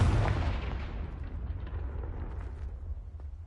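A Confringo fire spell blast in Hogwarts Legacy, one loud booming explosion at the start that decays into a long rumbling tail, close and alone.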